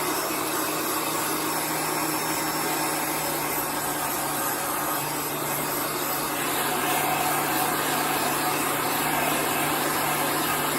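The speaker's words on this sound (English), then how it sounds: "You just want to continually move your heat gun or your hair dryer, whichever you're using." A heat gun or hair dryer blows hot air steadily over wet chalk paint on a piece of furniture, making an even whirring roar that stays moderately loud and constant, with no talk.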